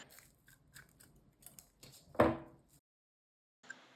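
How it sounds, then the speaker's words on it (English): Scissors snip through raffia yarn while crocheting a summer sun hat: one crisp, close cut stands out after a few light rustles and small handling taps in a quiet room. "I pull up the loop, cut the yarn"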